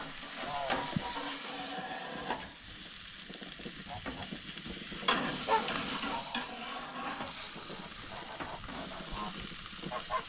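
Venison burgers fry in a pan with a continuous close hissing sizzle and occasional crackles and spatters.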